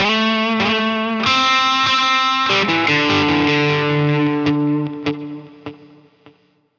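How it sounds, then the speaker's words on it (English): Electric guitar run through a Line 6 Helix with delay placed ahead of the overdrive, playing distorted sustained chords and notes whose repeats trail off, loud throughout then fading at the end. "put the delay in front of the overdrive"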